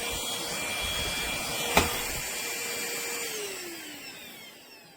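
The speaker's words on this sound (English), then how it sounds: "I think you can see what I'm vacuuming there. It vacuums very nicely." A Trucozie cordless 8-in-1 lightweight stick vacuum cleaner runs with a steady high-pitched motor whine, close and continuous, with one sharp click partway through and a slight fade at the end.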